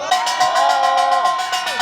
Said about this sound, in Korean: 큰 박수와 함성 부탁드리도록 하겠습니다